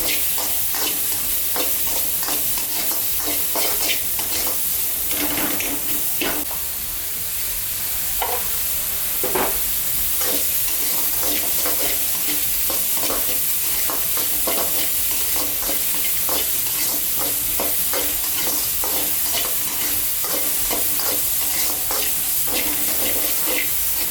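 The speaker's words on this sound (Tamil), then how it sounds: "இப்போ சோம்பு, லவங்கம், ஜீரகம், மிளகு இதெல்லாம் சேர்த்து" Fennel seeds, cloves, cumin and black pepper fry in hot oil for a village-style pepper tomato curry, a loud continuous sizzle and hiss with frequent spoon stirs scraping the pan throughout.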